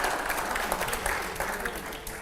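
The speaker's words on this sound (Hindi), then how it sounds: "अगले सवाल से पहले जोरदार तालियां हो।" Steady applause from a studio audience at a televised Hindi news debate show, a dense even patter of many hands clapping at moderate level with no talk on top.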